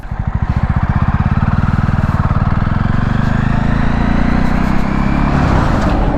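Motorcycle engine idles loudly and close, a fast, even thumping pulse that speeds up slightly as the throttle is raised, with no speech over it.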